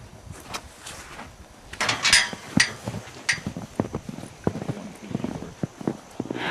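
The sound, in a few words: horses moving at ranch during feeding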